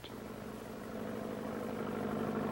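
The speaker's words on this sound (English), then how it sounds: "They demonstrate the use of tractor and plow" A tractor engine runs steadily on a farm in Goiás, Brazil, where a plow is being demonstrated; a low, even droning hum with a strong mechanical tone, slightly building in loudness, with no voices.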